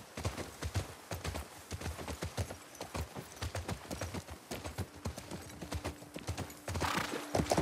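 Horses' hooves clop in a steady walking rhythm in the video game The Last of Us Part II, close and distinct, with a soft whinny at one point.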